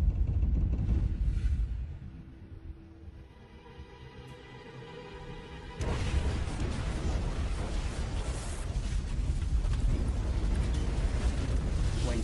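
A deep, muffled rumble gives way to a sudden explosive burst as the fuel-laden oiler USS Mississinewa explodes, then a sustained, loud roar like a raging fire.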